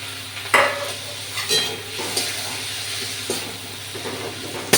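Chopped tomato sizzling in a pan over onion and garlic already fried in oil, with a few sharp spatula knocks and stirring scrapes over a soft steady frying hiss, heard close up.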